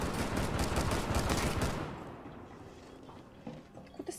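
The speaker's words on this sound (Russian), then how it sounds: "Откуда стреляют? Я что-то не поняла." Rapid automatic gunfire from the Rainbow Six Siege video game rattles loudly and densely for about a second and a half, then falls away to a quieter scene with a few scattered clicks and shots.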